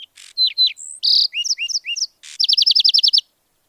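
Recorded song of a lark sparrow, a varied series of clear whistles, buzzy trills and downslurred notes, ending in a fast run of repeated chirps, loud and close with no other sound.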